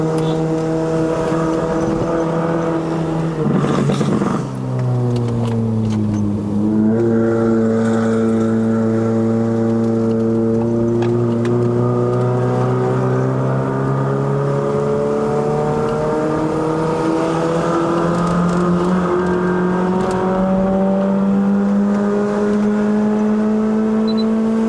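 A 2009 Honda City GM2 1.5E, remapped, revs hard on a mountain climb toward Genting, Malaysia, with a steady close engine drone that rises and falls through downshifts and throttle blips, loud and continuous from inside the car.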